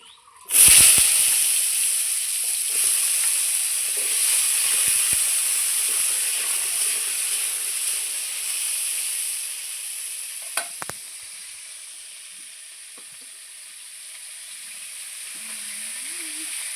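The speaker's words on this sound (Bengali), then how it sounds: "এইবার আমি মিষ্টি কুমড়াগুলো ভেজে নেব।" Loud steady sizzle of pumpkin pieces frying in hot oil, a continuous hiss with a few brief knocks partway through.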